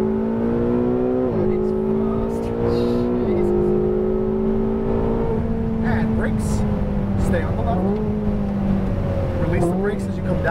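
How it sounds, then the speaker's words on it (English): Ferrari 488 GTB engine revving hard at full throttle on a track, loud and close with rising and shifting engine tones under continuous driving-instructor talk. "put that throttle down to the floor."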